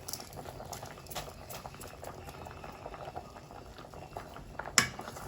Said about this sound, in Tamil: இப்போ நாங்கள் மரவள்ளிக்கிழங்கு அவிய வச்சுட்டோம்.